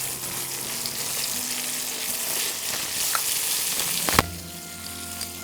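Okra and onions for bhindi do pyaza fry steadily in a hot pan, a continuous close sizzle with faint stirring scrapes and a sharp clack near the end before the hiss settles lower.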